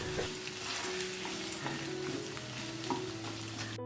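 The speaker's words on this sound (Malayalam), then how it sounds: "കാശ്മീരി ചില്ലിപ്പൊടി ചേർത്തതിന് ശേഷം സ്റ്റൗവിൽ ലോ ഫ്ലെയിമിൽ വെച്ച് രണ്ട് മൂന്ന് മിനിറ്റ് നല്ലപോലെ വഴറ്റി കൊടുക്കണം" Beef sautéed with Kashmiri chilli powder over a low flame, producing a continuous soft sizzle with occasional faint stirring taps and a low background hum, no speech.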